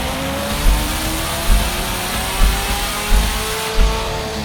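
Magnuson supercharged C8 Corvette Stingray engine, Stage-1 package, roars steadily with five rhythmic surges, a loud and close sustained drone with no talk.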